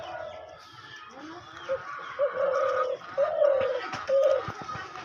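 A caged hunting decoy dove gives several soft, repeated coos at close range over a low rustling background, with a few brief clucking sounds mixed in.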